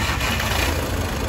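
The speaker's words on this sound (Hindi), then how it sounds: "अब इसकी आवाज़ देखते हैं कितनी प्यारी आवाज़ है" A Volkswagen Vento engine idles after an overhaul, giving a steady, even running hum that is close and fairly loud, with no talk over it.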